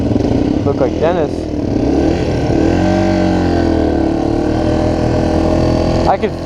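A dirt bike engine runs close by with a buzzing, shifting pitch that rises and falls slightly, heard under a person talking.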